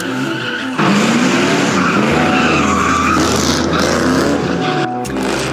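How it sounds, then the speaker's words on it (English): Car tires squeal and skid continuously as drivers spin donuts in an intersection during a street sideshow, the engines roaring loud and close with hundreds of spectators around. "Cars in the crowd took over that intersection as drivers did donuts in the middle of the street."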